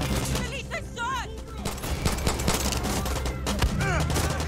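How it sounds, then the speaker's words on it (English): Gunfire in the video game Far Cry 6, with bursts of shots and rapid machine-gun fire layered over game music and character voices, loud and continuous through the scene. "Someone's shooting!"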